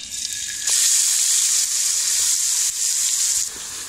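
Chopped onion tipped into hot oil with cumin for an egg curry, a bright hissing sizzle that surges loudly as it lands and keeps frying steadily, close and without talk.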